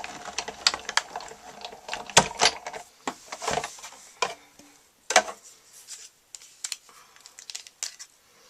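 A hand-cranked Big Shot die-cutting machine rolls paper through, giving a close, irregular run of sharp clicks and clacks with brief pauses between them.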